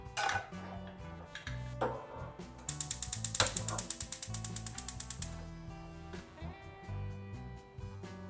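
A gas stove is lit for cooking chickpea curry in a pressure cooker, a quick run of rapid ratcheting igniter clicks in the middle, set against background music.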